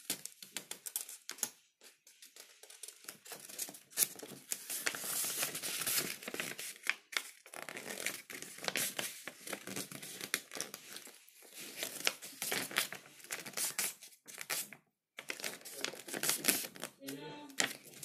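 Paper being folded and creased into a paper eagle: steady close crinkling and rustling with sharp creasing snaps, continuing almost without a break and dropping out for a moment near the end.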